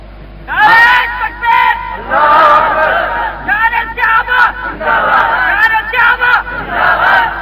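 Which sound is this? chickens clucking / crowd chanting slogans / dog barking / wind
crowd chanting slogans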